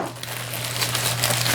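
Crinkling, rustling scrape of tape being cut and pulled off packaged Innova disc golf discs, close and continuous for a moment, with a low steady hum underneath.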